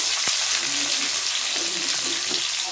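Small onions and garlic sautéing in hot oil for a curry-leaf kuzhambu, producing a loud, continuous sizzle with faint stirring underneath.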